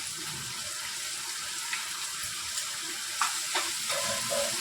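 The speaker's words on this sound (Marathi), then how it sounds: "मिक्स करून घ्यायचं आहे" Sautéed capsicum being stirred in a hot pan after soy sauce and vinegar go in: a steady sizzle with a few soft scraping stirs of a spoon, close and fairly quiet.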